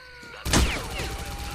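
Gunfire in S.T.A.L.K.E.R.: Clear Sky erupts as a sudden loud crack after a quiet start, followed by ringing echoes and whistling tails that fade away.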